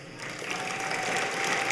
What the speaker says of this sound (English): I'm going to call for applause just for that.